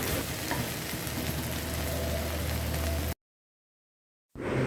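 Green okra sizzles steadily in oil in a nonstick pan with the lid off. The frying is loud and constant at close range, cuts to brief silence, then comes back.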